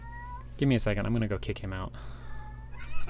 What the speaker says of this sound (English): my wife's cat is back here.